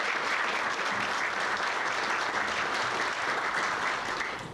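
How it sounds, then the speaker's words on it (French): An audience claps and cheers for the MC at a show, with steady, dense applause filling the whole stretch before it tapers slightly at the end. "Une bonne main d'applaudissements pour Madame Kouakou"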